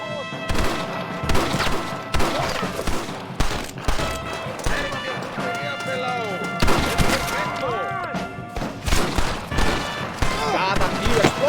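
Rapid bursts of gunfire and explosions in the Western shooter game Red Dead Redemption, loud and dense with overlapping shots throughout, with voices shouting over the battle.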